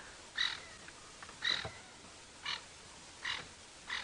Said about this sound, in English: you can hear the distressed sound that's coming from these birds